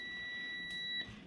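A digital multimeter set to continuity mode gives a steady high-pitched electronic beep when its probe tips are shorted together, one continuous tone that stops abruptly near the end, alone over faint room noise.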